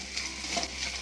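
Grated coconut frying in ghee for unniyappam, a brief soft sizzle with light stirring close by.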